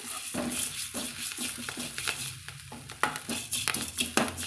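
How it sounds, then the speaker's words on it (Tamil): Ponnanganni greens and gongura sautéing in a pan for chutney, with quiet sizzling under repeated scraping and clinking strokes of a ladle, close and irregular. "இது போல் நல்லா வதக்கி விட்டுக்கலாங்க"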